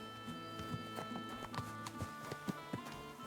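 Horse hooves clip-clop at a steady walking rhythm in the video game Kingdom Come Deliverance 2, close and distinct, with a brief whinny mixed in against quiet game ambience.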